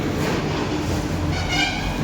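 Steady, loud rumble of vehicles passing close by, with rail-like clatter and a continuous roar throughout, no voices.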